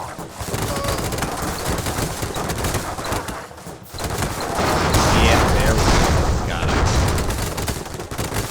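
Gatling cannon fire from an airship battle in the game Airships: Conquer the Skies rattles as dense, continuous rapid shots, loud and layered with booms and other battle noise.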